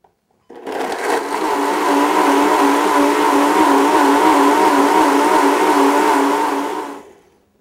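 A blender whirs steadily through a blueberry mix for about seven seconds, loud and close, its motor drone holding even from start to stop with no voices over it.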